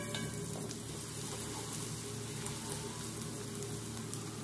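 Pancit canton noodles frying in a pan with vegetables, stirred around the edges; a steady, close, continuous sizzle with faint scraping throughout, no talking.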